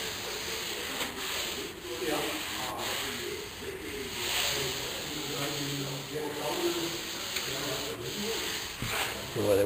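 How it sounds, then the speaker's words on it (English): Hand sanding on the primer of a Monza car body makes repeated close rasping strokes in an uneven rhythm with brief pauses, and faint background noise runs underneath. "Needs to be sanded because the primer's got all different levels."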